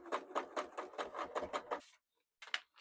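Sewing machine stitching a fabric strip at a quarter-inch seam, a steady rapid mechanical chatter running close for nearly two seconds before stopping, then one short burst after a pause.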